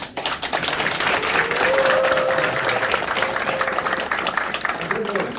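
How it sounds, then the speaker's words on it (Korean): A crowd claps steadily and loudly at a county-head candidate's campaign office opening in Yecheon, sustained applause filling the room with a faint voice or tone briefly showing through. "박수 한번 쳐주시죠."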